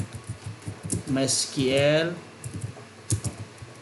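Close, quick clicks of keys on a computer keyboard during programming, arriving in short irregular bursts, with someone speaking over part of the typing.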